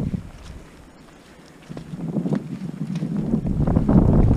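Wind gusts roar into the microphone on a mountain ridge trail in the Beskid mountains, starting softer and building to a strong, continuous buffeting.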